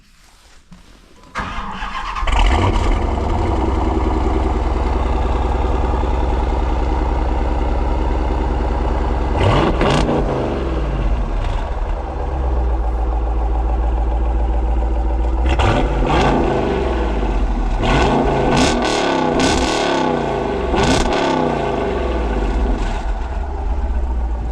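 A Dodge Challenger engine cranks and starts after a quiet moment, then settles into a loud, deep, close idle broken by several sharp revs of the throttle.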